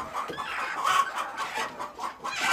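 Hens cluck and murmur in a busy flock during egg collection, with overlapping soft calls near the listener rising and falling over a couple of seconds.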